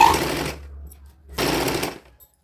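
Sewing machine stitching a small dhoti for a baby girl aged one to two: two loud bursts of running stitches, roughly half a second each, separated by a pause, close and on its own with no talking.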